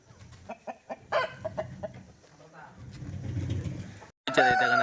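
A Salem rooster at a local poultry sale clucks in several short calls, close by, with people talking throughout and a louder burst near the end.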